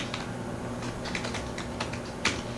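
Typing on a computer keyboard, a quick irregular run of light key clicks close by, fairly quiet over a faint steady hum, with no talk.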